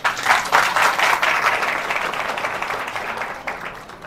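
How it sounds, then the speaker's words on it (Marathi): An audience claps together at a devotional gathering in the Shri Datta temple at Pusad, a dense burst of applause that swells early and then slowly fades over a few seconds. "पटलं तर टाळी वाजवा."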